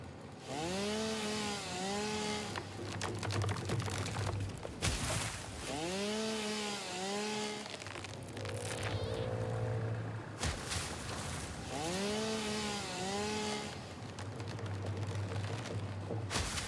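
Chainsaw cutting a tree in the Satisfactory video game, a steady buzzing drone that repeats in long passes across the clip, with a recurring musical tone pattern layered on top.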